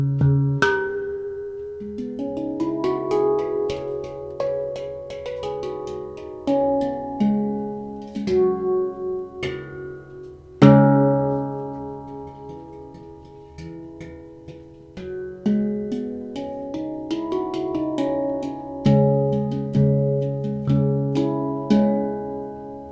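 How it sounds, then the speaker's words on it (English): Handpan, the steel hang drum, struck by hand in flowing, ringing melodic phrases with long sustaining tones and occasional stronger accents, close and solo for over twenty seconds. "This is called the hung drum, or more modernly known as the handpan."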